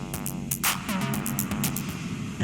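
A dense, gritty beat with a distortion effect faded in, sharp repeating hits over a constant buzzing wash, loud and continuous throughout.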